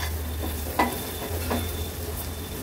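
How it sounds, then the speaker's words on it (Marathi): Turmeric and homemade Agri Koli masala being sautéed in oil, a steady soft sizzle with a couple of stirring scrapes of a spoon against the pan, no talking. "हळद आणि मसाला तेलावरच छान परतून घ्यायचा आहे"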